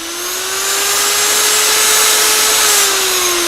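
An angle grinder polishes along a weld joint in a loud, steady, high-pitched whine that holds one even tone for several seconds, close by and alone, with no talk.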